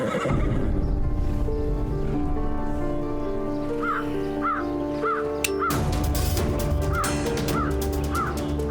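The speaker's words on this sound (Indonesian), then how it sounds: "Kuda itu tidak boleh dibiarkan kesakitan." A horse in pain gives several repeated, strained whinnies in the middle and again near the end, heard over a constant loud backdrop with a sharp crack partway through; no talking.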